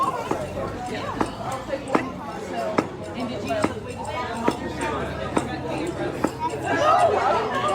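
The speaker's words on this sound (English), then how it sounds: "can you stir that up for me while I cut up our cucumber?" Knife chopping a cucumber on a board during a cooking demonstration at a farmers market, sharp cuts landing in an irregular rhythm, about ten strokes, under steady background chatter and nearby talking.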